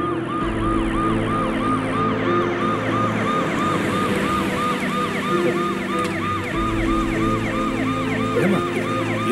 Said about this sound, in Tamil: ஏமா என்னமா ஆம்புலன்ஸ் உள்ள போகுது?